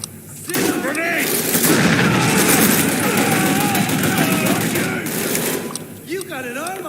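In Mafia 3, a grenade blast and heavy gunfire blend into a dense, continuous roar of shooting with booming impacts, while voices shout over the chaos.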